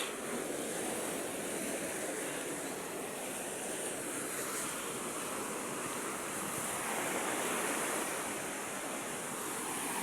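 Continuous roar of rough, angry ocean surf, broad and unbroken, with wind buffeting the microphone throughout.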